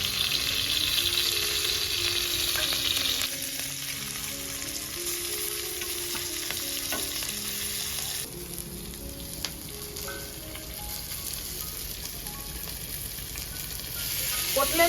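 Whole garlic cloves, onion and green chillies fry in a pan, a continuous crackling sizzle with some tonal clatter and occasional spoon knocks, steady and fairly close throughout.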